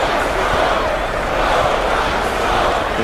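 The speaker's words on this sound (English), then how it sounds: "The crowd is into it too, you hear them? They getting loud." Basketball arena crowd at a college game roaring and yelling steadily, a dense continuous wash of cheering that stays loud throughout without any clear single voice on top.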